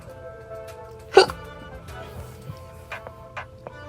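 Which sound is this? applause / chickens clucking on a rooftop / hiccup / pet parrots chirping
hiccup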